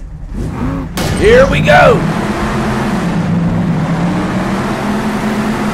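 Monster truck engines roar in the Monster Jam Steel Titans racing game as Monster Mutt Dalmatian Ice lines up, with a revving sweep near the start, then a steady engine drone under an excited commentator's voice.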